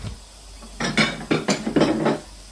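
A big cooking dish handled in a home kitchen, a run of close clattering knocks and scrapes of dish and metal against surfaces, irregular and fairly loud.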